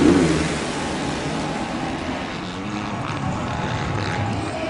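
Motocross bikes at the Monster Energy Cup scream and rev together as the starting gate drops for the first heat, a dense, steady roar of many engines with broad crowd-like noise underneath.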